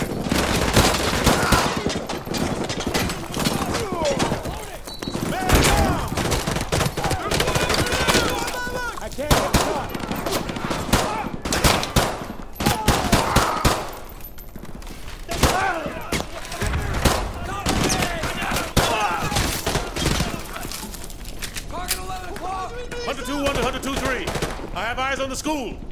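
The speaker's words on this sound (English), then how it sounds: "We are taking heavy fire from the school." Heavy, sustained gunfire and bursts of automatic fire in a Call of Duty: Modern Warfare 2 Remastered campaign battle at a school, loud and dense throughout, with shouted voices mixed into the combat.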